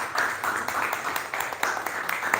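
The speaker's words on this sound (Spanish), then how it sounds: "pido un aplauso porque han hecho el esfuerzo por estar con nosotros acá" An audience claps for visiting women writers at a cultural gathering: a moderate, continuous patter of many hands with scattered sharper claps, heard without talk.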